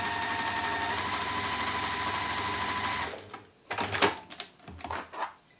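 Sewing machine topstitching a ribbon and felt purse, a close, steady whirring run for about three seconds, then stopping, followed by a few clicks and handling noises.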